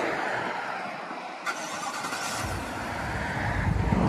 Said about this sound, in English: The Suburban High Country does have remote start.